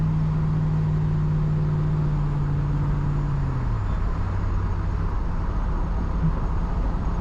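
An Austin car with a swapped 5.3 V8 engine drives along, giving a loud steady low engine drone with a dropping pitch and constant road rumble.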